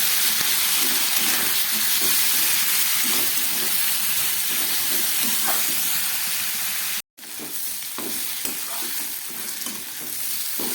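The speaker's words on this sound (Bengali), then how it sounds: "আলু আর পেঁয়াজটাকে আমি খুব ভালো করে ভেজে নেব" Potatoes and onions fry in a pan for a dried lote fish chorchori, a dense, loud, continuous sizzle with occasional stirring scrapes. The sizzle cuts out briefly, then resumes.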